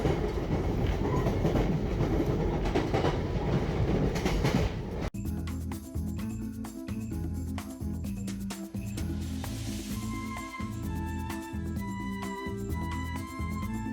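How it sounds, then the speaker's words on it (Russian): A loud old train on the Isle of Wight rumbles along, its steady roar giving way to a rhythmic clickety-clack of wheels over rail joints, with squeaks and rattles throughout. "Я просто в восторге от старого поезда, насколько он милый и уютный, но очень шумный."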